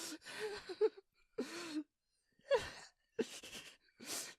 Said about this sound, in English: it's the breathing and the sounds of pain and everything